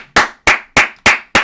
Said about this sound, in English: Give a round of applause, Dusty Baker.